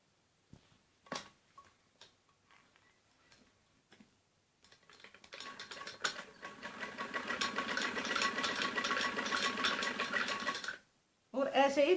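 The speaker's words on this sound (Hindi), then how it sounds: "चुन्नट के लिए बड़ा नंबर करके सीधी सिलाई लगानी होती है" A sewing machine runs a long, steady stretch of straight gathering stitches on a large stitch setting for an umbrella frock, preceded by a few scattered ticks and clicks, fairly close.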